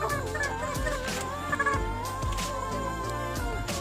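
Young hens about six months old call continuously up close in a coop, a busy run of throaty clucks and warbling cries from birds penned together.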